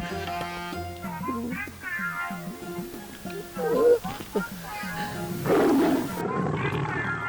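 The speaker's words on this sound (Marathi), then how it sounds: "वाघ" A tiger gives several deep, rumbling roars and growls, close and loud, while people talk in the background.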